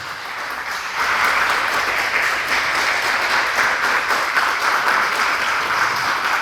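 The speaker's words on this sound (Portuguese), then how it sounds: "Vamos aplaudir a Jesus." A church congregation applauds during a service: a sustained, loud roar of many hands clapping, swelling after the first second and holding steady to the end.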